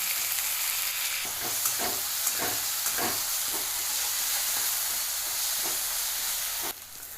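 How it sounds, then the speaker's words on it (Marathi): Ground masala sizzles with onions in a pan for mutton biryani, a steady loud frying hiss with rhythmic scraping stirs every half second or so, close up, cutting off abruptly near the end. "हा पण भाजून घ्यायचं आहे कांद्याबरोबर आपल्याला"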